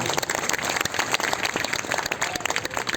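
Audience applause at the unveiling of a statue of Maharishi Vishwamitra at a college in Buxar, steady dense clapping throughout with a few sharper claps standing out, moderately loud and sustained.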